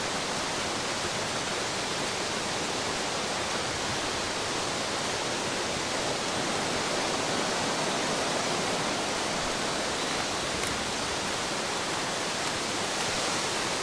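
A waterfall in the survival game The Long Dark roars as a loud, unbroken rush of falling water that stays constant and dense throughout, with no voices over it.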